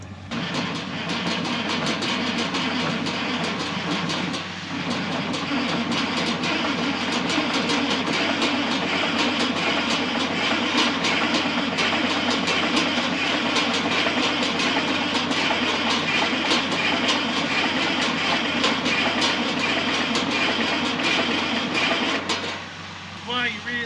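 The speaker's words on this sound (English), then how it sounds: "I'm gonna go start the 8630 up, get it ready to roll." Engine of a John Deere 8630 tractor running during a 2022 harvest, a loud, steady diesel rumble that holds continuously for the whole stretch.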